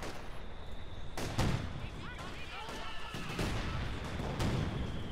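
Infantry teams open fire in Company of Heroes 2, with a dense, continuous clatter of rifle and gun shots and heavier booms close by, running steadily throughout under a background hiss.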